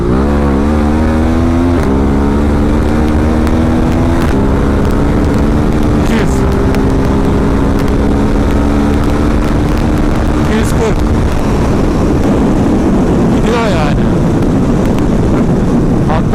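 A Ducati Multistrada 1260S accelerating hard on the road, engine note climbing through gear changes in rising harmonic sweeps, loud and close, heavy wind rush building as speed increases.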